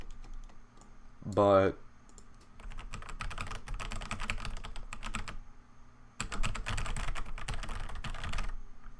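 Bursts of clattering keystrokes on a computer keyboard, close and quick, with one spell in the middle and another toward the end, separated by a brief voice and quieter gaps.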